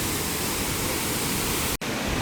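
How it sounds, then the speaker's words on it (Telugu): Hogenakkal waterfall roars with a dense, continuous rush of extreme-pressure water, loud and close, broken only by a split-second dropout near the end. "Extreme water pressure."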